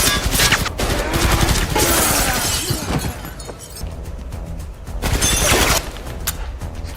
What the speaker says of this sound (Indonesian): si bos gangster datang membrutal menembaki mereka berdua